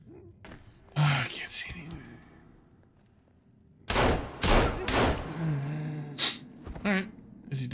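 Pistol fire against mutants in Sons of the Forest: several sharp, loud reports in irregular clusters, a burst near one second and a denser run of shots after four seconds, mixed with grunts and game noise.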